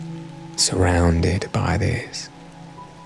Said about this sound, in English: beautiful sound of falling rain